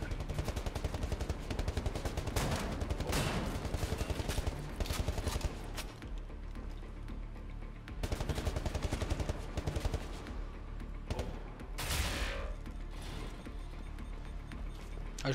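Enemy gunfire in the video game Wolfenstein: The New Order, loud rapid automatic bursts with short pauses between volleys and a few sharp impacts.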